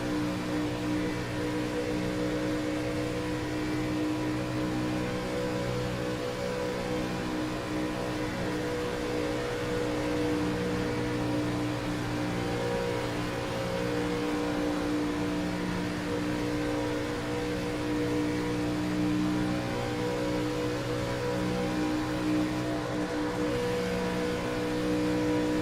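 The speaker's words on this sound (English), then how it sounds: "Cars just sound like a race car." NASCAR Gen 4 race cars in the iRacing video game drone on steadily, a constant layered engine whine with no passes standing out, held at moderate level throughout with no talk.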